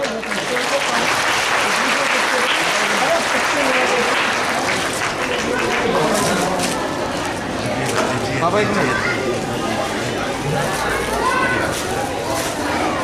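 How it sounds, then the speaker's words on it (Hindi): Loud, dense applause from a Holi gathering audience at a Hindu religious assembly, sustained steadily throughout with a busy crowd texture and scattered cheering. "जोरदार तालियां।"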